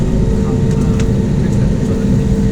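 A loud, steady low engine roar of a passenger airplane on the runway before takeoff at Kaltar Airport fills the space, a constant heavy drone with faint higher whines on top.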